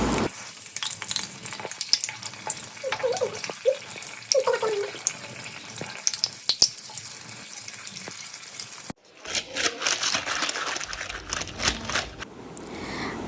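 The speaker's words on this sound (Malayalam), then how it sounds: "ഇത് ചൂടായിട്ട് വരുമ്പോൾ നമ്മൾ ബാറ്റർ ഒഴിച്ചു കൊടുക്കാം" Neyyappam batter sizzles and crackles in hot oil in a pan, a steady close-up frying hiss with scattered pops and brief clinks of a utensil, breaking off abruptly partway before the bubbling resumes.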